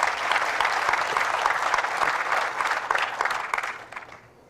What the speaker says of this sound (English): A round of applause from a bunch of planners.